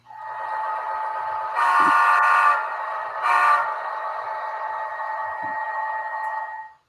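A model CS44 locomotive with onboard sound speakers passes close by, giving a steady, sustained horn-like tone with two louder blasts rising above it before the sound cuts off.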